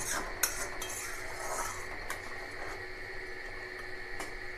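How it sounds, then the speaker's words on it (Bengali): Metal pot lid lifted and prawn malai curry stirred in the pot: a soft clink followed by scattered light scraping and rubbing of a spoon against the metal, quiet and close, over a steady low kitchen hum. "আমি একটু ঢাকনাটা খুলে দেখে নিই একটু নেড়ে চেড়ে দিই"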